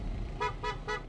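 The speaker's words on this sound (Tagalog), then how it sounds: "Kapansin-pansin na ang mga dumadaang sasakyan sa tulay," Vehicles crossing a bridge after dark sound their horns in three short, evenly spaced toots, distant and fairly faint over low traffic rumble.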